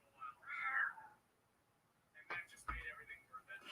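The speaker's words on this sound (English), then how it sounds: "You went outside and he started meowing." A house cat gives one drawn-out meow near the start, then a pause before a person starts talking.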